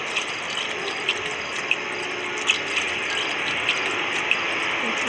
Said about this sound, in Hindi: अब हम यहाँ पे फ्यूल डालेंगे